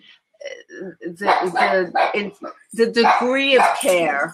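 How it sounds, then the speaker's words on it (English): A dog barks and yips a few times in a quiet indoor room, close by, mixed in with steady conversation between people talking about caregiving. "Sorry about the dog."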